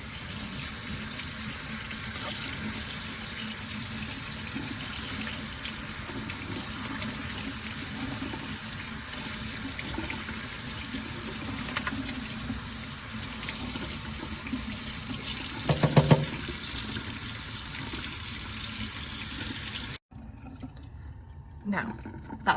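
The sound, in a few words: rinsing a paint palette with running tap water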